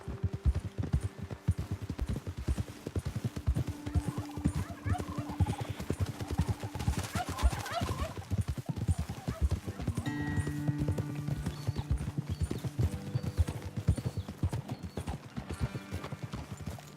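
Rapid, rhythmic clip-clop of horse hooves in Red Dead Redemption 2 continues throughout, with occasional faint tonal effects and a horse whinny in the background.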